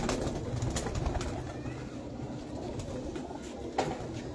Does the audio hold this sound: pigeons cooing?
yes